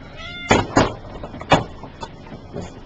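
A cat meows several times, with a few distinct drawn-out cries standing out clearly against a quiet background and no talking.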